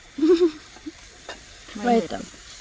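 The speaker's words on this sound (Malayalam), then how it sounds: "നമുക്ക് നല്ല രീതിക്ക് ഇളക്കി കൊടുക്കാം. സവാള നല്ല പോലെ വഴറ്റി കിട്ടണം." Onions being stirred and sautéed for chicken curry, cooked outdoors in a forest, with a few distinct bursts of stirring and scraping over a low sizzle, quiet between them.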